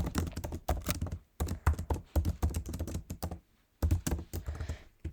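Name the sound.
typing code on a computer keyboard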